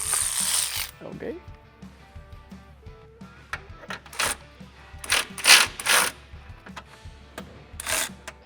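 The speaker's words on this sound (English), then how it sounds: "And we'll go ahead and tighten down our sway bar link." A ratchet tightening a sway bar link on a Can-Am Maverick R during a front sway bar install, with bursts of clicking pawl ratcheting and metallic clinks between pauses, up close in a workshop.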